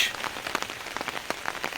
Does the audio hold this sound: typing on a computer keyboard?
no